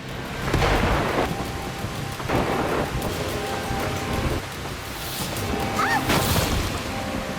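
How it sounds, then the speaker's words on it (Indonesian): Steady heavy downpour with broadband hiss throughout, punctuated by a few louder crashing bursts like distant thunder. "hujan yang sangat lebat"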